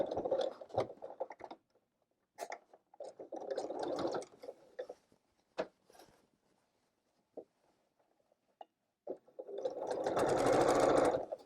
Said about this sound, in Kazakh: Мына тігістің бәрін осылай. Осылай тігіп аламыз.